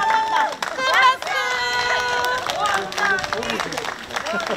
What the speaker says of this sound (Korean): 박수 소리가 너무 작은 것 같은데 한 번 더. 큰 박수.